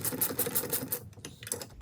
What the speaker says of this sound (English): So get your spanner or ratchet and then you just want to tighten these up.